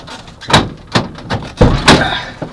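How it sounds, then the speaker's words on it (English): A camper van door being shut, a series of loud, close thuds and knocks, several hard impacts spaced across a couple of seconds with no talk. "I think Boomer just shut the door."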